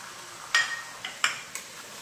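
Mutton being stir-fried in a pan with a special spice mix, with a few sharp clinks of a spatula against the pan over a low, steady background of cooking.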